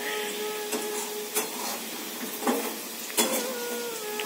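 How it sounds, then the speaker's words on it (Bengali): Meat cooks in a pan, with a steady sizzle broken by occasional clinks and scrapes of a utensil stirring against the pot. "এই যে মাংস রান্না হচ্ছে"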